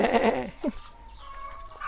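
A goat on a durian farm gives a loud, wavering bleat up close, then quieter farmyard background with a faint second call.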